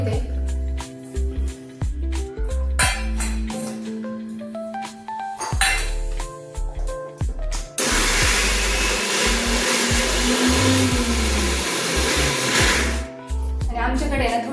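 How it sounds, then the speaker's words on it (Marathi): Kitchen mixer grinder blending green chilli, garlic and coriander: short stop-start pulses with clinks of the jar, then a long continuous whirring grind that slows in pitch toward the end, close by with a voice heard briefly. "इथं वड्यासाठी जे हिरवी मिरची, लसूण, कोथिंबीर हे मी बारीक करून घेते"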